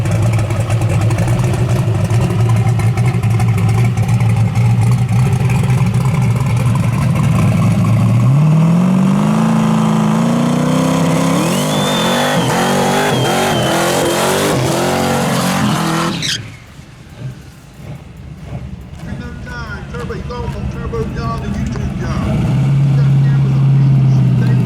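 A drag racing truck at a strip idles loudly, then launches with a rising engine roar as it accelerates through the gears and fades away down the track, before another engine rumbles nearby and voices are faintly heard.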